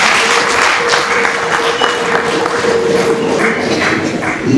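A church congregation at a priest's 25th jubilee celebration claps together in sustained, dense applause that holds steady for several seconds.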